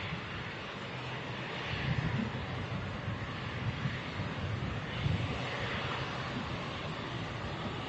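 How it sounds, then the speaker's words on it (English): A Pegasus Airbus A321neo taxis out from the terminal apron at Manchester Airport, its engines a steady broadband rumble with wind buffeting the microphone throughout and a few louder swells. "that Pegasus A321neo just making an appearance as well, coming out of the terminal apron."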